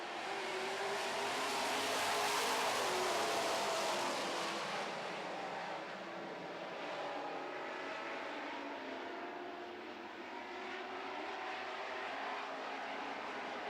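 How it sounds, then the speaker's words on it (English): Super Truck division race trucks roaring around a track, a steady engine drone swelling as the pack passes, then settling into a continuous distant hum. "here we go racing in the Super Truck division"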